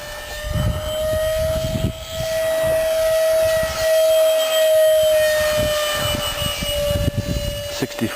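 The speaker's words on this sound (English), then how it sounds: "I love this jet." A Nitro Planes F15 camo 64mm electric ducted-fan RC jet runs close and loud, its sustained high whine holding steady across the whole stretch, with brief handling noises underneath.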